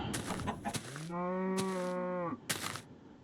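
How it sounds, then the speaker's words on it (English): A cow in the Minecraft video game gives a single drawn-out moo, close and clear, framed by brief clicks and footstep-like knocks. "Wow, look at all those cows."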